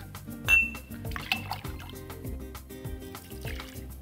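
Bloody Mary mix of tomato juice, vinegar and Worcestershire sauce pours into a tequila cocktail in a glass with a glugging, rising fill, near and clear, with a few light clinks.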